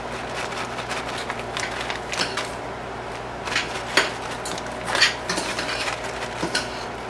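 Pecan nuts dropped by hand into a pie dish, giving faint, scattered clicks and light clatters over a steady low background hum, with a few slightly sharper taps standing out near the middle.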